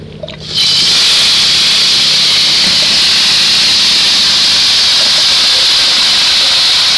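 Taro leaves dropped into hot oil in a wok let out a sudden loud, steady hiss and sizzle that builds within the first half second and holds at full strength to the end, with no talking.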